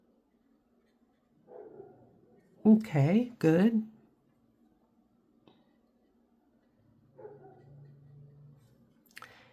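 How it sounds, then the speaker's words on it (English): A dog in a downstairs flat gives two quick barks in a quiet room, muffled and somewhat distant, with a few brief spoken words before and after. "If you could hear a dog, it's not mine, it's downstairs."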